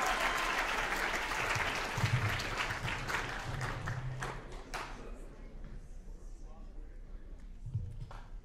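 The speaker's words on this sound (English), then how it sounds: "Everybody want big round of applause." A classroom audience claps for a few seconds, loud at first and then thinning out, with voices talking over and after the applause.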